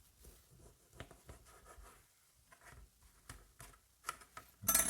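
A knife slices straight down through a bread roll, giving a series of close, faint crisp scratching strokes with short pauses between them and a louder rasp at the end.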